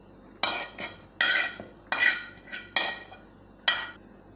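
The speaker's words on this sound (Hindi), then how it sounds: "अब हम इसको अच्छे से मिक्स कर लेंगे" Mashed potato, minced chicken, fried vegetables and spices being mixed in a bowl, heard as six or seven scraping, clinking strokes of a utensil in an uneven rhythm, close and fairly clear with quiet gaps between.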